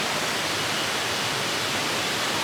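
Steady, dense rushing of a mountain stream in thick forest, loud and close, with no pauses or other sounds on top.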